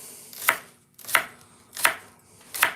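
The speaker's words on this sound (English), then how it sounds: "Let's cut these onions up." A knife chops through onions on a board in four evenly spaced, crisp strokes, close and distinct with quiet pauses between.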